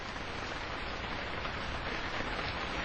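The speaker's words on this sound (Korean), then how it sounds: "깡통 건물 천장에서 빗소리가 요란하다." Dense, steady rain patters continuously on a tin roof, a constant hiss with no pauses or voices.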